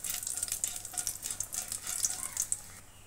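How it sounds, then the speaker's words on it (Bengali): Whole cumin seeds and two dried chillies fry in hot oil with a bright, crackling sizzle and quick spitting pops, close and fairly quiet, fading slightly at the end. "এবার আমি দিয়ে দেবো গোটা জিরা আর দিয়ে দেবো দুটা শুকনো লঙ্কা, দিয়ে একটু আচাড়া করে নেব।"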